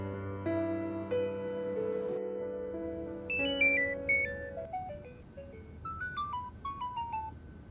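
A phone ringtone plays a steady tonal melody with held notes, then shifts into a quicker run of bright chiming notes, fairly loud and alone with no talking.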